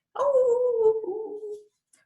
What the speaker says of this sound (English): And hungry foxes howl.